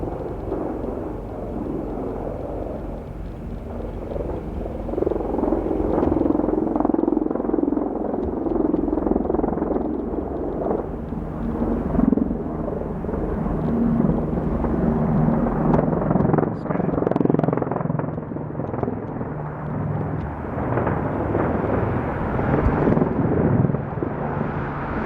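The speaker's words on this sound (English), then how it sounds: "You can hear they already got choppers." Helicopters fly over a wildfire in the mountains near Estes Park, Colorado, their steady rotor drone and engine roar holding loud and broad for the whole stretch, with wind and handling noise mixed in.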